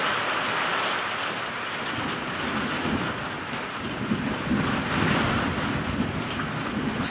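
Severe thunderstorm with microburst conditions: very heavy rain pours steadily with strong gusting wind, a dense, continuous roar at close range throughout, with no voices.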